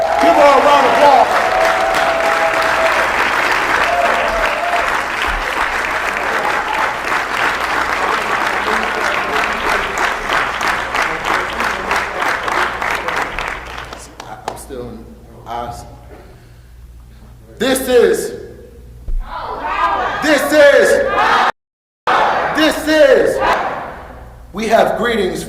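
A crowd at a Florida education town hall applauds loudly for about fourteen seconds, dense and steady, then it dies away and a voice speaks over a quieter room with short gaps.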